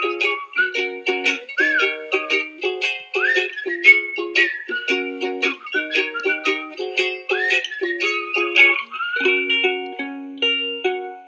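A tune is whistled as a recorded melody, with a steady run of clear, loud, close notes in a lilting rhythm over about eleven seconds, alone and with no talking.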